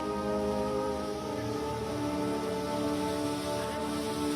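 Heavy rain pours steadily in Himachal Pradesh during a flood disaster, a dense, constant hiss of rainfall on surfaces with a low rumbling undertone, loud and unbroken throughout.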